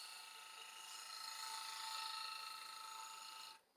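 A woodturning gouge on a lathe peels off wood chips in a steady, hissing, scraping cut that holds for about three seconds, then stops abruptly.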